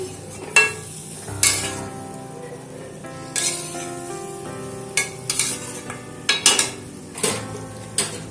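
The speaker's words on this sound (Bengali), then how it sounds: "চিংড়ি মাছগুলো সমস্ত সবজির মধ্যে মিশিয়ে দিচ্ছি।" Shrimp are stirred into vegetables in a pan, with scraping spoon strokes and metallic clinks over a steady low sizzle, close and fairly loud, in uneven strokes with no voices.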